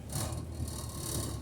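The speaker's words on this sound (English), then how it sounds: "Stop rattling! Stop it!" A loose rattle buzzes inside a truck cab on the move, a steady rough clatter over the low drone of the engine, close by and continuous.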